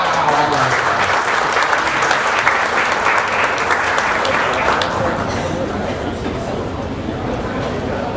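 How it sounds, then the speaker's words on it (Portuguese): A seminar audience at a coffee-growing event gives a welcome round of applause for a speaker, dense and loud clapping from many hands that holds steady for several seconds and fades slightly near the end. "recebe a nossa salva de palmas"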